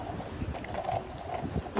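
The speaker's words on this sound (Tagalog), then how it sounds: "malakas ang hangin at makulimlim" Strong wind under an overcast sky outdoors, a brief low rumbling buffeting against the microphone, close and fairly loud.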